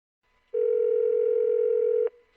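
Steady telephone ring or dial tone heard as a customer phones a travel agent to book a holiday, a single loud continuous tone lasting about a second and a half, then a faint click.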